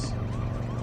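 An ambulance siren wails in a TV drama, a brief steady tone over low engine rumble, heard alone for under a second.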